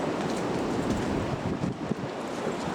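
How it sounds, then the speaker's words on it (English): Strong wind roars steadily across the microphone, a constant broadband rush with slight gusting and no voices. "Very, very windy today"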